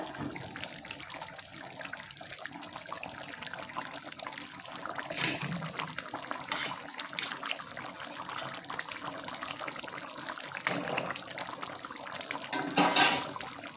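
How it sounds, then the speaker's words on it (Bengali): Silver carp fish curry simmering in a pan on a gas stove, a steady soft bubbling and watery sizzle that runs throughout with a few louder bursts, no talking. "কিছুক্ষণ ফুটিয়ে গরম মশলা আর ধনেপাতা দিয়ে নামিয়ে নেব"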